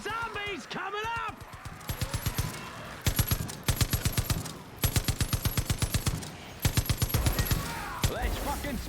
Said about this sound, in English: A fucking high-powered machine gun?